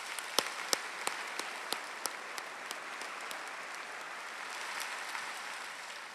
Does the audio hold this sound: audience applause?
yes